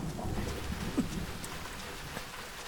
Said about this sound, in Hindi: जब मैं गाना गाता हूँ तभी बारिश होती है।